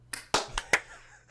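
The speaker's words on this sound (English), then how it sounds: "Try to clap after 3." Several hands clap on a count, giving three or four sharp, distinct claps spaced unevenly, close and crisp against a quiet background hum.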